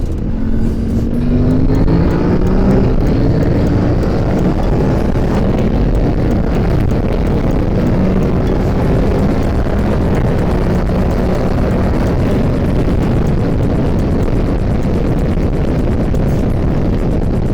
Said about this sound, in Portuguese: Esta moto tem um motor bicilíndrico, mas é um motor bicilíndrico com muito sumo.